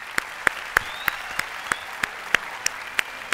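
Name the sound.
audience applause for singer Julio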